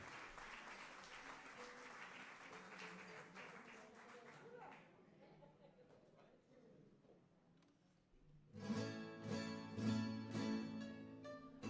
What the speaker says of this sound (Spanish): Vamos a darle un fuerte aplauso a estas dos cantantes